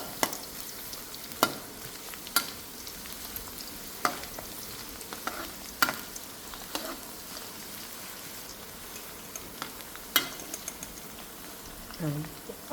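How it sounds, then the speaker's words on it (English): Garlic deep-frying in chili oil, a soft steady sizzle and crackle with scattered sharp taps and scrapes of stirring, quiet and close, with a voice speaking at times. "Put the garlic in the chili oil. Deep fry the garlic. You keep a stir."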